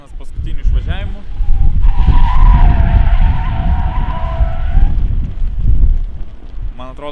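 A Subaru drifting on a wintry track, tires squealing in a long, loud, sustained skid close to the microphone, with engine roar and wind buffeting, and brief voices at the start and end.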